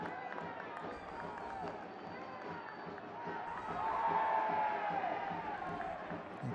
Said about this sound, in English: The crowd doesn't like that a bit